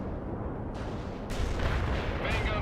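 Artillery firing in the World in Conflict war game, a continuous heavy rumble of distant booms that swells and thickens midway, with no voices.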